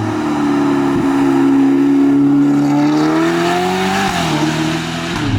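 A Novitec-tuned Ferrari Portofino M with 688 horsepower and an aggressive aftermarket exhaust revs close by, its loud, rising engine note climbing and dropping through several blips with sharp cracks between them.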